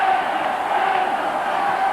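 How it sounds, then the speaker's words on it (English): Crowd noise at a 1998 rugby league match between Wigan and Leeds, a steady dense roar of spectators cheering without a break, loud and evenly sustained throughout. "Listen to the crowd."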